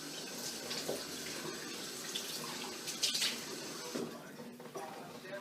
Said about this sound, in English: Just going to